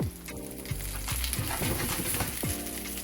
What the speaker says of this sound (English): I'll just let those get seared nicely